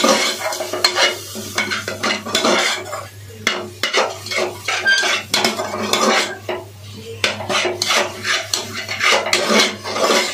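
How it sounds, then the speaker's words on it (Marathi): Garam masala and biryani masala roasting in a pan, with steady loud stirring and scraping of a spoon against metal and a soft sizzle running throughout, no talking. "मसाला चांगला भाजून घेऊया."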